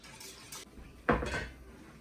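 A spoon scrapes and knocks around a pot as pectin is stirred into apple cider for jelly: quiet faint rustles, then one louder scraping clatter midway that trails off.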